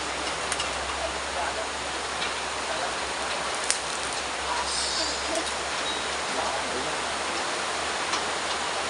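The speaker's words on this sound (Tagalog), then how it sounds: "Lakas na ulan" Heavy rain pours down in a constant, dense hiss that does not let up, with a few faint knocks underneath.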